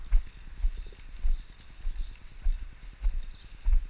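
A horse lopes on the right lead during training, producing a steady three-beat rhythm of dull hoofbeats on soft ground, close and repeating throughout.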